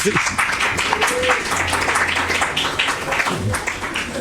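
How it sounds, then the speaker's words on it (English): A live podcast audience applauds a guest in a steady wash of clapping that fills the whole stretch at moderate loudness, with some murmured voices mixed in. "Let's give him a round of applause"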